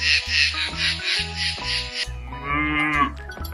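A calf lowing in a few short moos, loud and close, over a rhythmic background beat with no talk.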